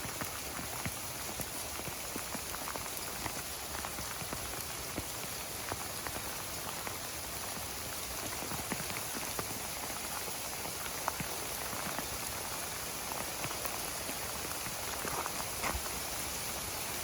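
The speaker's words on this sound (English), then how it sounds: "And there you have it. There's hail." Hail patters densely and continuously onto a surface in a rendered Blender scene, a close, crackling stream of countless small impacts with scattered sharper hits and no talking.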